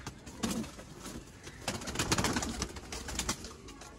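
A top-level breeder pair of game pigeons in a loft gives soft, repeated cooing calls close by, with rustling and faint movement around them.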